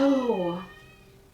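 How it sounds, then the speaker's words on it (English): A house cat cries with a drawn-out meow that slides downward, loud and close, while a person speaks a brief word over it. "if you guys can hear the cat crying"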